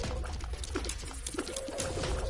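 Bird cooing in The Binding of Isaac: Rebirth, a soft repeated coo over steady game music and low rumble, with no talking.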